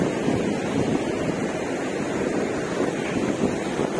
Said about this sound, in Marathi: तिकडे आवाज जास्त येत पाण्याचा.